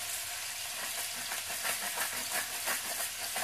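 Shrimp sizzle and fry in a pan with bacon, a steady bright crackling hiss with small popping bursts, close and continuous, no voices.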